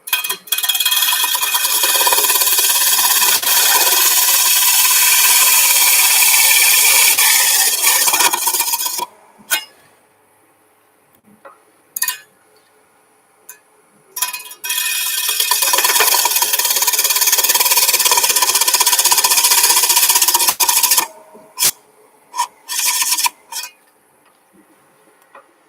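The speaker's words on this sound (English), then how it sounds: "Now we're cutting." A tool cuts in two long, loud, harsh rasping runs with a gap between them. Scattered short scrapes and clicks fill the quieter stretches.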